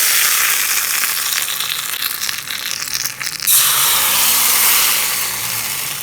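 Asafoetida hits hot oil in a tempering for roadside-cart style thin water chutney, a loud, close, bubbling sizzle that surges sharply partway through, then settles into a steady crackle with no talking.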